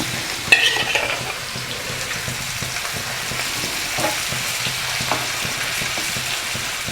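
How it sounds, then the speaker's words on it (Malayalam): Small spice-coated kilimeen (threadfin bream) fry in plenty of hot oil, giving a steady close sizzle for the whole stretch with a few sharper pops and spatters and no voices. "നമ്മൾ മുളകൊക്കെ പരത്തി വെച്ച മീനെടുത്ത് ഇതുപോലെ വറുക്കുക നല്ല പോലെ ഓയിൽ ഒഴിച്ചിട്ടുണ്ട്"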